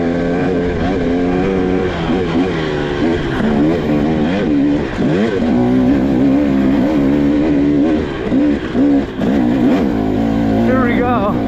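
A 2023 KTM 300XC two-stroke dirt bike with a WP 6500 suspension kit climbs a rough uphill trail, its engine revving and bogging in loud, wavering surges close by, with a rider talking.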